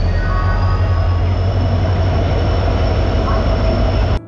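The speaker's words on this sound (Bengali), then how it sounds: "এখন আমি আছি হাওড়া স্টেশনের বাইরে" A train rumbles loudly and steadily beside Howrah railway station in Kolkata, with metallic wheel squeal riding over a heavy, constant rail roar that cuts off abruptly at the end.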